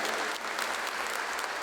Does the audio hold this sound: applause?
yes